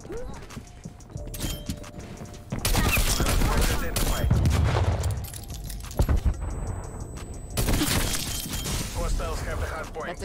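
Dual-wielded magnum revolvers firing in a first-person shooter video game: loud, rapid volleys of sharp gunshots in several dense bursts, mixed with game effects, with a player talking over the action.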